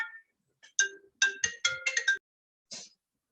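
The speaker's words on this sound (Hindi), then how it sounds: "हीनल मुझे फोन क्यों कर रही है बेटा" A mobile phone plays a bright electronic melodic ringtone in short clustered bursts with brief gaps, fairly close and alone without speech.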